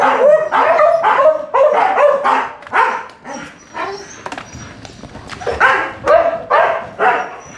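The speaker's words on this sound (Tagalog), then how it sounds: "ang ingay ng mga aso pagka hindi mo lapitan kagad yan kasi mag-iingay yan" Several dogs bark repeatedly and loudly nearby in rapid overlapping volleys, with a few yips and whimpers during a brief lull.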